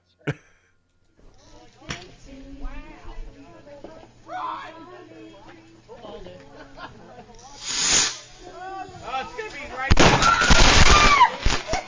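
Fireworks set off by a group of people outdoors, with sharp pops and a loud burst of crackling and hissing near the end, preceded by people talking over a low background hum.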